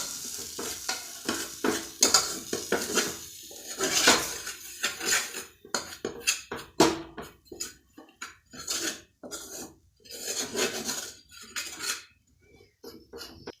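Gram flour (besan) being lightly roasted in a pan for a sheera: busy, continuous scraping and stirring of a spoon against metal with bursts of clatter and light sizzle, close and fairly loud.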